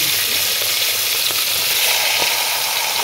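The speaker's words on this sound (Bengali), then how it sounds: "আমি প্রথমে মাছের মাথাগুলো ভেজে নেব।" Fish heads seasoned with turmeric and salt fry in hot oil, giving a steady, dense sizzle with faint crackles and pops throughout, close and fairly loud, no voices.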